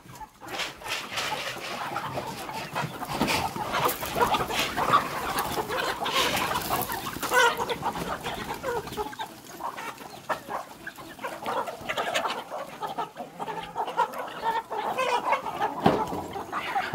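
Free-ranging chickens on a small farm cluck and cackle all around, a dense, continuous flock chatter with occasional louder squawks and a dog now and then, outdoors with no talk.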